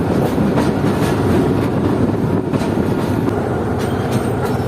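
The Mohenjo Daro passenger train, a privatized service running from Karachi to Sehwan, rolls along the rails with a loud, steady rumble and faint clickety-clack throughout, heard from on board.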